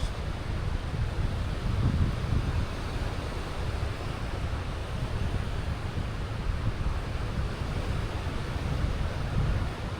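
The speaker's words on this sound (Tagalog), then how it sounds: "Sarap na ang simoy ng hangin" Strong wind buffets the microphone at Tondaligan Blue Beach in Dagupan City, Pangasinan, with a continuous low rumble, the wash of surf blending into the steady roar.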